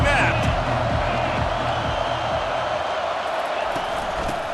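Dense roar of a football stadium crowd cheering during a game, loud and continuous throughout with steady broadband noise.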